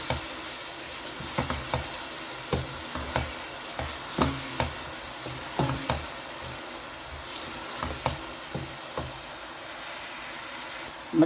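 Green chillies and finely chopped ginger fry in masala for dal mash, a steady sizzle broken by regular scraping stir strokes, close and fairly loud, with no talk.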